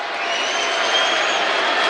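Broad, sustained roar of an NFL stadium crowd at a Cardinals–Buccaneers game, cheering with a faint whistle-like tone riding on top, loud and continuous throughout the short stretch.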